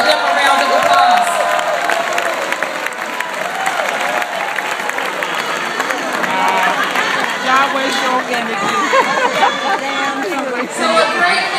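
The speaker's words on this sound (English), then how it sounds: "Please give them a round of applause." Crowd applauding and cheering at a mayor-elect's victory speech, a broad, sustained roar of clapping mixed with loud chatter and voices throughout.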